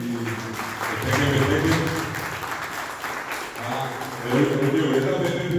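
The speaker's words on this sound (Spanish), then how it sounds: "vamos a darle fuerte aplauso acá completo a la banda" An audience at a Guarani-language tribute event gives the band a strong round of applause, a dense, sustained clapping with voices mixed in underneath.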